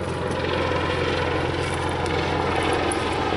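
Steady, loud helicopter rotor drone fills the whole clip, a continuous thrumming roar with no break and no voices.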